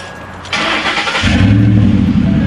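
A Ford Mustang engine with a previously blown motor cranks briefly, then catches and settles into a loud, steady idle close by, with no talking.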